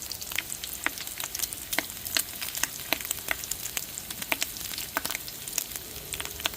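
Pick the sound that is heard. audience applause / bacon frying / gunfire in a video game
bacon frying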